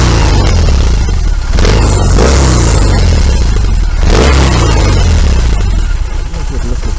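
A BMW R18 motorcycle engine runs loud and close, a deep, steady throb that swells slightly in revs and stays dense from start to finish.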